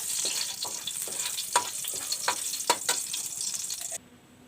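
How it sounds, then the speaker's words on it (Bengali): Dried red chillies tempered in hot oil in a kadai for tok dal sizzle steadily, with scattered sharp crackles and pops over the frying hiss before it cuts off abruptly near the end. "এবার দেবো শুকনো লঙ্কা ফোড়ন।"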